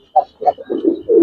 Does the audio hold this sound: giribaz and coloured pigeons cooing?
yes